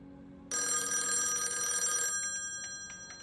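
A telephone bell rings out in one loud, bright burst of about a second and a half, then its ringing decays slowly into the background.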